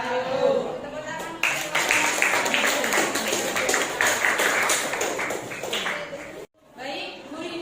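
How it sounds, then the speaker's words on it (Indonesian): Classroom applause after a student presentation, a steady patter of clapping from a group that runs for several seconds, then a brief pause before more sound resumes, with some talking mixed in. "Tepuk tangan."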